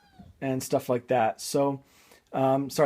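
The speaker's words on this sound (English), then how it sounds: "that was just my cat, if you heard that." A pet cat meows several times in short, clear calls close by, mixed in with a person talking.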